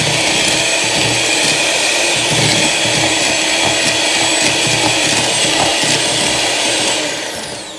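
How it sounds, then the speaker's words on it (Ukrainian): A new electric kitchen mixer runs on its lowest speed setting, a loud, steady whirring drone from close by that holds level throughout before easing off at the very end. "Зараз покажу вам, дивіться, вмикаю. Це тільки на одиничці."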